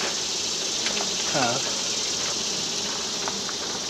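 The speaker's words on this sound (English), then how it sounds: "That way I don't have all these bees pissed off at me" Disturbed honeybees buzzing around a hive being worked on during a newspaper combine, a dense, continuous drone close by, with a brief louder voice-like swell partway through.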